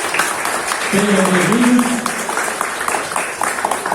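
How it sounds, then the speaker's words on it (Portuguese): Church congregation applauds new Pathfinders being presented, clapping that swells in the middle under a voice welcoming them, with a brief tonal sound mixed in. "Uma salva de palmas, uma salva."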